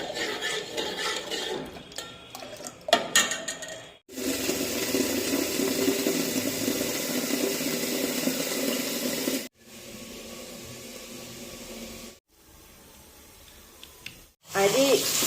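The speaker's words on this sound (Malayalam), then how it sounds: "ഇനി അരി കഴുകി ഇടുകയാണ്" Running water splashing in a sink as rice is rinsed, in several bursts separated by pauses, close and fairly loud.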